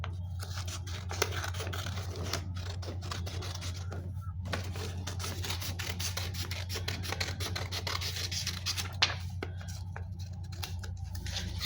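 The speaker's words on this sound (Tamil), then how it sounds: "ஸ்கொயர் ஷேப்பில் இதை கட் பண்ணிக்கலாம்." Scissors cutting colour paper into a square for an origami CD wall hanging, a steady rasping, scratchy snipping sound heard close over a constant low hum, with no talk.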